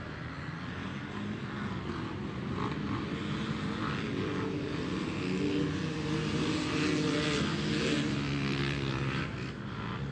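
A pack of 4-stroke dirt bikes at the 2019 GNCC Tomahawk 10 AM race start roars together in a continuous, fairly distant engine drone that swells and rises in pitch as the riders accelerate away.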